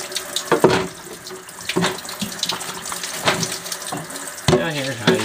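Running tap water splashing into a kitchen sink as dishes are washed, with clinks and sloshes of handled crockery close by and the water flow shifting throughout.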